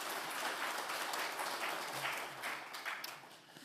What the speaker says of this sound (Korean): 은혜로운 말씀을 전해주신 목사님께 감사 박수를 드리겠습니다.